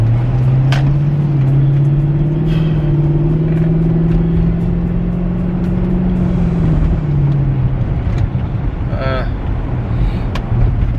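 Interior of a car accelerating to overtake a stopped bus, a steady droning engine hum that rises slightly in pitch and then drops, loud and continuous, with faint road noise.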